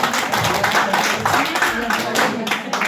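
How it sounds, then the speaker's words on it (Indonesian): An audience at a presentation claps in a brisk, continuous round, close and fairly loud throughout. "Berikan tepuk tangan beliau ini."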